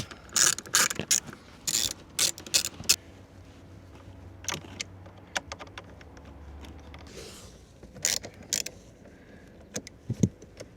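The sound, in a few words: removing Torx screws from Alfa Romeo Stelvio trim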